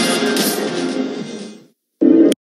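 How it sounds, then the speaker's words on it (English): A BMW all-electric vehicle accelerating in a broadcast advert, a loud sustained whooshing, humming sweep that fades away, followed by a short, strong low hum burst after a brief silence. "That is the sound of BMW performance without a single piston or cylinder."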